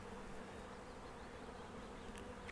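Honey bees buzz around an opened hive during a disease inspection in an apiary, a steady, continuous, faint drone with no talk over it.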